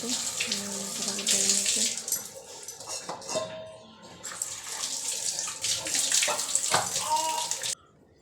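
Running tap water splashes steadily as fish is rinsed in a kitchen sink, with clinks of dishes and pans, a brief pause midway and close, fairly loud flow that stops abruptly near the end.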